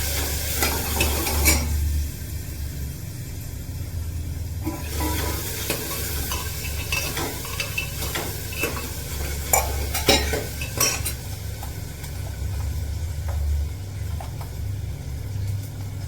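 Tomatoes and onions fry and sizzle in a pan while a spoon stirs and scrapes in steady strokes with occasional clinks, close and fairly loud, with no talking.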